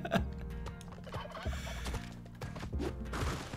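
Turkeys in the video game Spelunky 2 gobble repeatedly in quick, close bursts, several warbling calls over a few seconds amid game sound effects.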